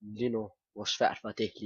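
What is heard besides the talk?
No everyday noises stand out.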